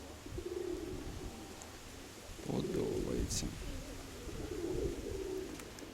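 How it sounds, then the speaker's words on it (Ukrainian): Pigeons coo softly in repeated low throaty phrases close by as they land, while someone speaks briefly in Ukrainian in between. "Так, голуби сідають."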